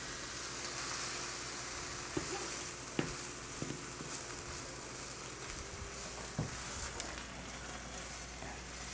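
A grilled cheese sandwich of bread and cheese mix cooks in a pan with a faint, steady sizzle. Soft scattered clicks and taps sound over a constant quiet hiss, with no voices.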